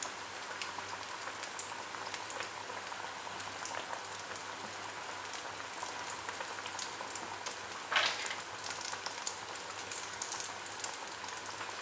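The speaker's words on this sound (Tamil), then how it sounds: "ஸோ கோல்டன் ப்ரௌன் கிறிஸ்பாக ஆகிற வரைக்கும் வந்து ஃப்ரை பண்ணோம் அப்படின்னு சொல்லியிருக்காங்க." Chicken coated in Hapima crispy fry mix frying in hot oil, a steady dense sizzle and crackle throughout with a brief louder pop partway through.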